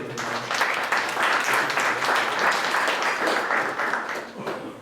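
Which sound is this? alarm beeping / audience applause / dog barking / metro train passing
audience applause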